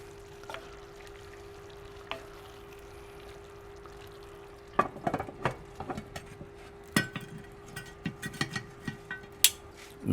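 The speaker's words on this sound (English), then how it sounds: "Let me stir" A pot of green bean stew is stirred in a Dutch oven. Quiet at first, then a run of scraping and clinking utensil strokes against the pot, close and fairly soft over a low steady hum.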